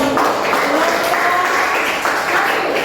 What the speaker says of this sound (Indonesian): berikan tepuk tangan yang meriah